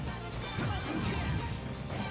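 A shield shatters in a Super Smash Bros tournament match, a loud, bright crashing burst amid dense game noise lasting a couple of seconds.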